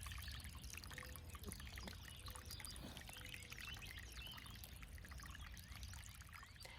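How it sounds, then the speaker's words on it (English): Small solar garden fountain in a spring garden trickling water, a faint continuous splashing patter close by with bird sounds in the background. "here is one of my little fountains up and running. That's a solar fountain."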